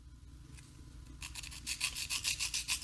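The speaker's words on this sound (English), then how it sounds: "These are our emery boards, and this is 60 grit" A 60 grit emery board rubs and sands a 3D printed miniature, with steady rhythmic rasping strokes starting faintly and growing louder and quicker, close up with no voices.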